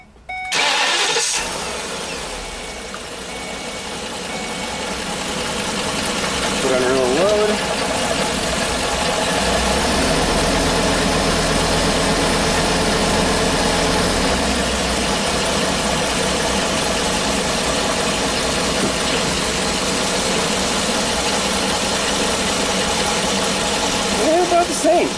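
A Ford E450 bus with a swapped V10 engine cranks and fires, then settles into a steady, loud idle that runs for the rest of the stretch, with a mechanic's voice heard briefly near the start.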